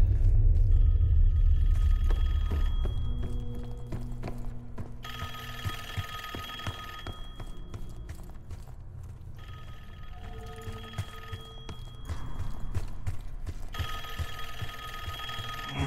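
A telephone rings in the video game Call of Duty: Black Ops 6, repeated electronic ring bursts in an on-off rhythm over a low rumbling ambience that fades early on.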